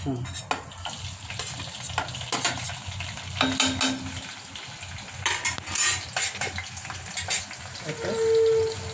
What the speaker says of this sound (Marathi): तडतडले का जिरे? तडतड ते होऊ दे ना